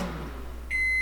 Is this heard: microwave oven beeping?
yes